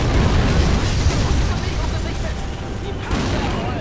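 Artillery fire and explosions from the WWII strategy game Blitzkrieg 2, a dense, continuous roar of booms and bursts that stays loud throughout, with a fresh blast near the end.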